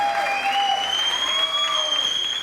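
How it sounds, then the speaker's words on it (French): A live audience in Kinshasa applauds a special guest with loud, sustained clapping and crowd noise, while high whistle-like tones ring steadily over it. "Hailey, je vous demande d'applaudir bien fort pour mon invité spécial."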